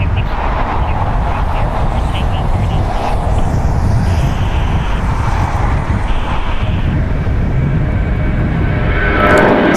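An 11-year-old Spirit Airlines Airbus A320 jet at LAX International Airport gives off a loud, steady, close engine roar that holds level throughout, with some wind buffeting on the microphone.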